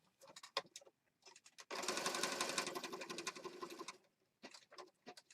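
A sewing machine stitches around layered fabric for a junk journal, running as a loud continuous burst of about two seconds between short start-stop runs of stitching close by.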